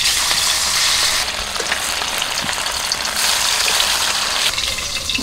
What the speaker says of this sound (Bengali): প্রথমে মাছটা ভেজে নিই।